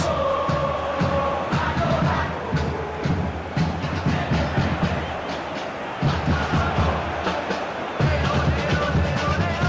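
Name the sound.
crowd cheering in a virtual football video game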